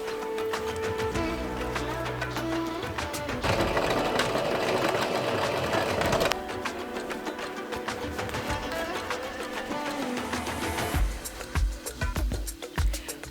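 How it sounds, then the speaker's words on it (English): A sewing machine stitches a kimono collar, running in fast continuous bursts with a rapid whirring needle rhythm, briefly pausing and restarting, steady and close. "We are going to be sewing on top, trying to catch the fold on the other side."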